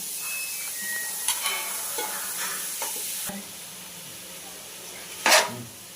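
Chicken frying in a pan until browned, a soft continuous sizzle with occasional light scrapes of a spatula and one brief louder clatter near the end.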